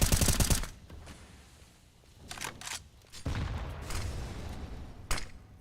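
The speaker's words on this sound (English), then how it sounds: "Vigo nearly fully erased by frag grenades." Frag grenades go off in a competitive shooter match, opening with a loud burst of rapid blasts, then scattered gunfire crackles and thuds at varying distances, with a sharp final bang.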